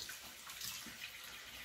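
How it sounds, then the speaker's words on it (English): Cold tap water runs steadily during a wet-shave rinse, a continuous close hiss of flowing water without pauses or voices. "Cold water rinse here."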